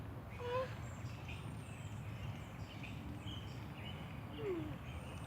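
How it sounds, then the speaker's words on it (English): Several small birds chirp briefly at a distance ahead of rain, faint short calls scattered through steady outdoor noise with a few people talking nearby. "You hear all the birds?"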